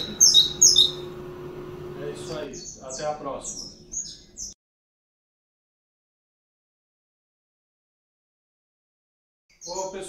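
Goldfinches sunbathing in the open trill and chirp in quick bright bursts for a few seconds, then fall silent before a short final burst of song; the birds sound close and fairly clear.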